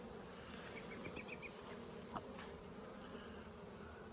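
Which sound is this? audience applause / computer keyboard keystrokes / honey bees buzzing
honey bees buzzing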